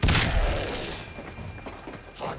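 A primary weapon fires in the video game Warframe, giving one loud, close blast at the start that rumbles and fades away over the next two seconds.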